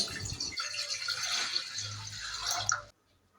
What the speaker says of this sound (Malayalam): പാത്രത്തിലേക്ക് കുറച്ച് വെള്ളം ഒഴിച്ച്